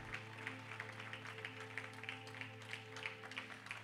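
Church congregation applauding steadily in a dense, sustained wash of clapping, with a sustained musical tone held underneath and no clear speech over it.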